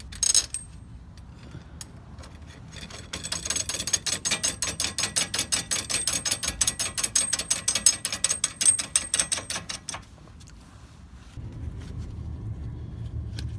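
A washer and nut are threaded onto a bushing puller for the front control arm of a 1989 BMW 3 Series, making a rapid run of close metallic ratchet clicks that lasts several seconds before fading into low background noise.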